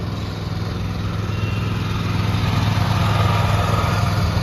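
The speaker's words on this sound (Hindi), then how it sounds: "12 हॉर्स पावर का होंडा का इंजन लगा हुआ है, ओरिजिनल होंडा का आप देख सकते हैं।" A Honda GX390 12 hp engine on a Swaraj Code power tiller runs at a steady, loud, close chugging idle, with no voices over it.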